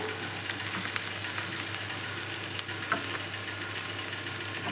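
Bitter gourd fry with masala is stirred in a pan, with a steady low sizzle and occasional soft scrapes and clinks of the spoon, fairly quiet and with no talking.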